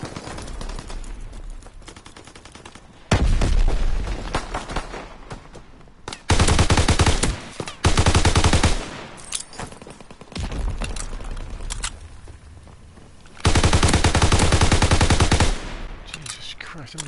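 Loud machine gun bursts tear through Call of Duty WWII multiplayer, with several long dense volleys of close rapid fire separated by quieter stretches of distant shooting and faint voice.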